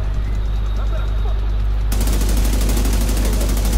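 Automatic gunfire in the video game The Division 2 rattles as a dense, continuous burst that intensifies halfway through, set against a steady low hum of game ambience.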